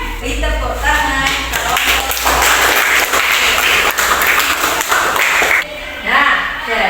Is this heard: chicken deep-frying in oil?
no